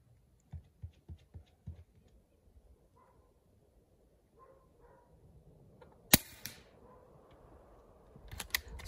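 Air rifle firing .22 caliber 14.3 grain slugs at a target, one sharp crack standing out among quiet handling clicks, with fainter snaps and a soft electronic chirp afterward.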